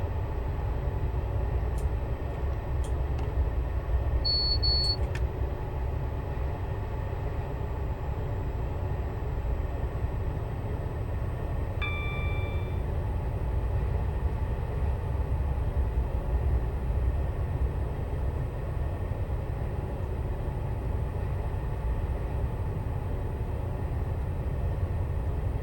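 A Class 222 diesel train rumbles steadily through a long tunnel in Train Simulator 2020, a continuous low roar with a few faint electronic beeps and tones early on and no talking.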